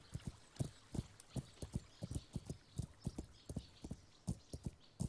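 A horse's hooves clip-clop in Kingdom Come: Deliverance, an uneven run of soft thuds at a walking pace, quiet and close with no other sound.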